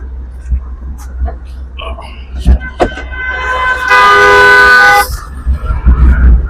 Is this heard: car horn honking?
yes